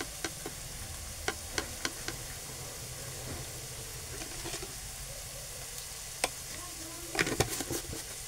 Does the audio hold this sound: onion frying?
yes